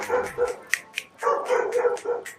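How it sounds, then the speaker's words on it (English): Several dogs bark in quick succession, a string of close, loud, evenly spaced barks with brief yips, heard alone without talk. "dogs!"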